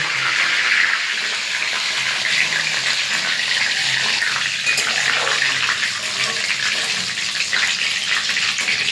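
Bay leaves hit hot oil in a pan for a simple home-style chicken curry, producing a loud, continuous hissing sizzle that holds steady throughout without speech.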